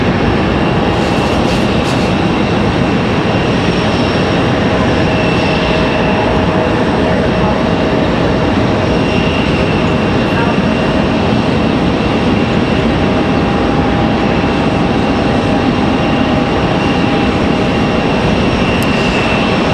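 A Swoop airliner in pink and white livery departs behind the terminal at Raleigh-Durham airport, bound for Calgary. It gives a steady, broad jet roar at middle distance that holds level throughout.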